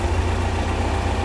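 A Steyr-Puch Pinzgauer 6x6 military utility vehicle's air-cooled engine idles steadily up close, a loud, even low rumble with constant vibration and no pauses.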